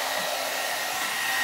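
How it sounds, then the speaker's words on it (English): A Sutra blowout dryer brush blows hair dry with a loud, steady, close whoosh of air from its motor, unbroken and alone. "I'm blow drying my hair with the blow dryer brush of Sutra."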